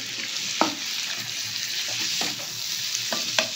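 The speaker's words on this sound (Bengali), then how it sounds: "চিংড়ি মাছটা কিন্তু বেশিক্ষণ ভাজা হবে না, 2 মিনিট মতন ভাজা হবে।" Steady, loud sizzling of salted prawns frying in a hot pan, with a few sharp pops and scraping stirs scattered throughout.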